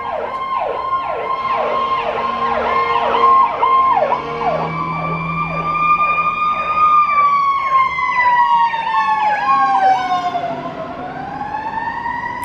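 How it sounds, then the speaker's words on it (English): Wailing fire truck sirens blare loudly and continuously, their pitch sweeping up and down, shifting as the vehicles pass close by. "Oops, fire trucks are coming."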